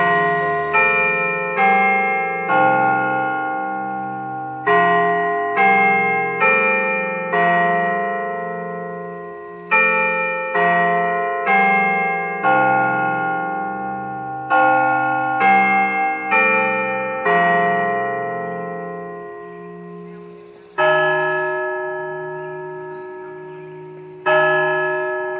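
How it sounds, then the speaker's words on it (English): A carillon near a church in Arkansas rings out a slow tune, each bell strike ringing bright with long decaying overtones, notes overlapping in a steady stately rhythm, loud and clear with no voices. "The nearby carillon, reminiscent of the ones often seen beside old European churches, chimes on the hour"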